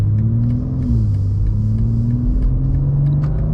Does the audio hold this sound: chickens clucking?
no